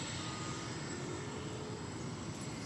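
An Airbus A321 jet airliner arriving at DFW Airport, landing from Anchorage, makes a steady, distant broadband roar that holds at a faint, even level throughout.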